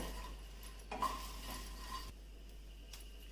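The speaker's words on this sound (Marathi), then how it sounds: "याच फ्राय गरम मसाले परतूया गरम मसाले एक ते दोन मिनिटच भाजून घ्यायचे आहेत" Garam masala spices dry roasting in a pan for a veg Kolhapuri curry, stirred with soft scraping and light clinks against the metal, a quiet steady rustle with a brighter clatter near the middle.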